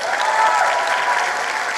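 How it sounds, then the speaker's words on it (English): An audience applauds a top learner at the 2023 matric results announcement, dense sustained clapping from a crowd in a hall, steady and fairly loud over the short stretch. "Can we please give her a round of applause?"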